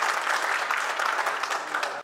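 A crowd at a Hindi comic poetry gathering breaks into loud, dense applause that holds steady, then cuts off abruptly at the end.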